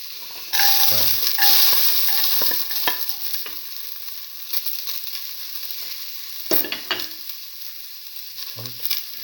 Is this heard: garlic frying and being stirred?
yes